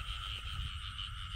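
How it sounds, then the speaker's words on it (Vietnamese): A frog, likely a female, croaks at night in a Mekong Delta field, a close, continuous buzzing trill with a pulsing low rumble beneath it, and no one speaking. "Này chắc ếch cái quá."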